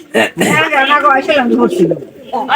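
Pigeons cooing softly, low throaty calls mixed with a person talking nearby.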